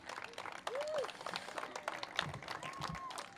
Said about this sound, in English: Another round of applause for President Lee.